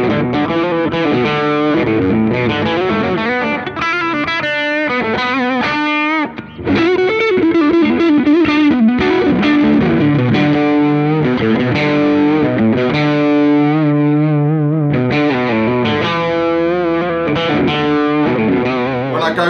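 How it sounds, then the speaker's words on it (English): Distorted electric guitar on the bridge pickup, picked close to the bridge, plays a loud, bright run of riffs and chords with effects, continuous and up front with no voices. "if I'm on the bridge pickup and pick kind of right by the bridge"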